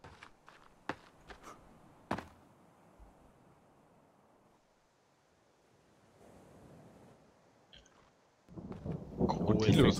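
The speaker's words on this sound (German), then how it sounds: "wenn es jetzt regnet" Video game thunder in The Forest: scattered sharp cracks and quiet rumbling give way to a sudden loud wash of heavy rain near the end.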